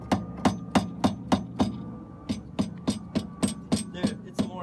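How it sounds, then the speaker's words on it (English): Sharp, evenly spaced knocks strike a car's rear suspension, about a dozen close metallic-wooden raps with a short rattle after each, in two quick runs separated by a brief pause. "See the rattling noise?"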